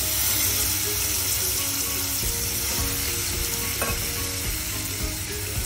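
Lengthwise-sliced brinjals fry in a pan, giving a loud, steady sizzle throughout with occasional clinks and stirring noises, close and alone.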